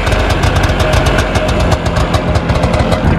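A Yamaha Enticer motorcycle engine idles steadily off choke, a loud, close, even low rumble with a rapid regular knocking pulse throughout and no talking over it.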